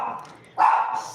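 A dog barks close by indoors, a single short sharp bark following a softer stretch of background noise, with faint talk around it.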